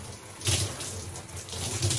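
Shower water runs and splashes steadily while hair is rinsed after a milk wash, a soft continuous spray with low bursts.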